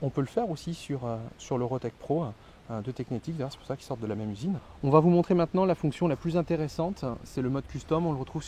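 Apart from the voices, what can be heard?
No distinct noise like a dog, phone or traffic.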